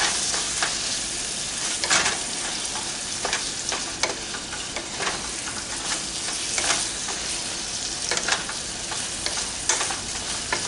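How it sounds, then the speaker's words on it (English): Hamburger meat, onions and garlic frying in a pan, with a steady close sizzle broken by repeated scraping stirs, no talking. "we'll just cook this until all the hamburger meat's nice and brown and the onions and garlic's nice and translucent and soft"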